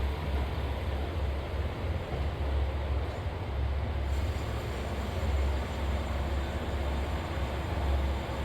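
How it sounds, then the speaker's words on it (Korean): JR Kyushu A-Train sightseeing train pulling into a station platform, a steady loud low rumble with broad rushing noise throughout, close and continuous, no voices. "구마모토로 돌아가는 마지막 A 열차가 승강장으로 들어오고 있습니다"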